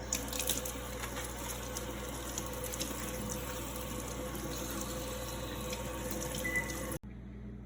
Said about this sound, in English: First, cut off the stem and then wash it.